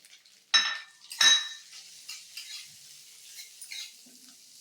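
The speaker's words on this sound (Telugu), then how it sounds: "కొంచెం ఆయిల్ వేసి నేను ఇక్కడ పచ్చిమిరపకాయలతో పాటు ఈ మినపగుళ్ళు జీలకర్ర కూడా వేసేద్దామండి." Green chilies, urad dal and cumin hit hot oil in a pan, two sharp bursts of sizzling and metal clatter early on, then a quieter crackle with occasional utensil clinks, close by and with no voices.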